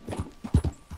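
Horse hooves clip-clopping in Red Dead Redemption 2, a quick, close run of soft thudding hoofbeats in uneven rhythm, fairly quiet and alone.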